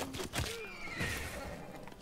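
A horse neighs in the strategy game Civilization 6, a short whinny with a faint clip-clop of hooves over busy game sound and battle noise.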